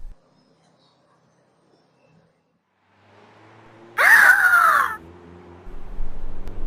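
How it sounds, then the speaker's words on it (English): A bird lets out a single loud, piercing shriek lasting about a second, bursting out after near silence and then giving way to low background noise. "Shriek and cry are used for a very loud, piercing sound made by a bird."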